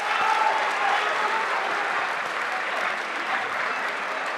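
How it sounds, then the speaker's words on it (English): An audience at a Ghanaian national science and maths quiz contest applauds the contestants after the first round, a dense, steady wash of clapping that holds evenly throughout with no pause. "Please, let's clap for them."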